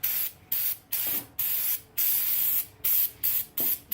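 Brake cleaner sprays onto an engine cylinder head during a Miata head gasket job in a series of short, close, hissing bursts with brief gaps between them, about nine blasts in quick succession.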